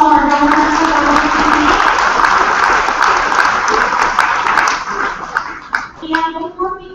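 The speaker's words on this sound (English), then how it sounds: "Give a round of applause to all our donors." Audience applauding donors at a farm-to-food dialogue event, a dense sustained round of clapping that tapers off near the end while voices talk over it.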